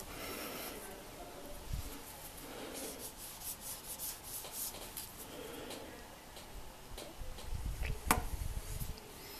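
Soft, repeated rubbing strokes of a wet wipe on a smooth Xiaomi Redmi 4A phone screen, close and quiet, with a few small knocks near the end.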